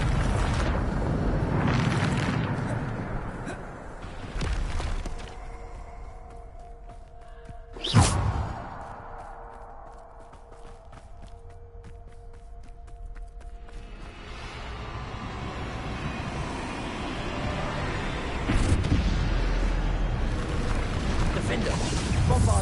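The Bombarda spell goes off in Hogwarts Legacy with a booming, whooshing blast, loud eruption-like rumbles rising and fading across the clip along with one sharp burst, while a voice talks over parts of it.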